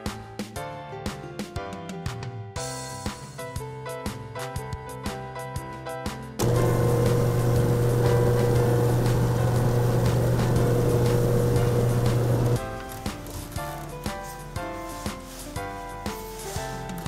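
A bandsaw cuts a long piece of wood during a woodturning session, the blade running as a loud, steady sustained whine and hum for about six seconds in the middle, with tapping workshop sounds before and after.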